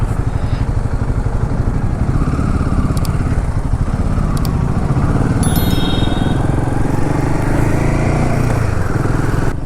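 A Royal Enfield Himalayan 450 motorcycle is ridden on a Himachal mountain road toward Manali, its engine a steady, loud, close pulsing drone with wind rush throughout and a few faint dings.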